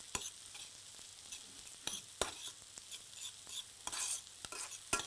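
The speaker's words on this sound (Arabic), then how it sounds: "بحب اسمع الاكل وهو بيطبخ" Food sizzling in a pan during home cooking of chicken dishes, with a steady high fry hiss broken by repeated sharp scrapes of a spoon stirring, close and fairly quiet.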